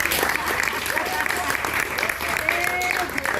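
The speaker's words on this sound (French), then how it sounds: "Applaudissez quand même." A workshop audience claps steadily after a song, a continuous patter of hands throughout, with a voice speaking over it.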